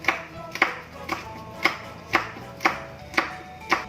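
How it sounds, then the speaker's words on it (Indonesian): A knife finely slices wood ear mushroom on a cutting board, making crisp, evenly spaced chopping taps at about two per second, close and clear with no talk. "Jamur kupingnya diiris lembut juga."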